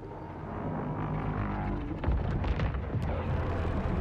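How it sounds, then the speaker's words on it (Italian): Explosions in the PS5 game Suicide Squad: Kill the Justice League, heavy booms and rumbling blasts over a dense background, growing louder halfway through, with no talk. "Vedo esplosioni."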